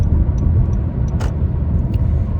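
Steady low road rumble of a car driving, with a constant engine and tire drone and a few faint ticks, no voices.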